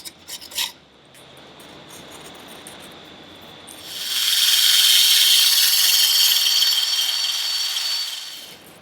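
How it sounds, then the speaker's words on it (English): A wire brush scraping old gasket material off the base plate of an Evinrude 150 outboard: a few short rasps, then a loud, steady hissing scrub that goes on for several seconds before easing slightly, close up and without talk. "and maybe a bit of wire brush."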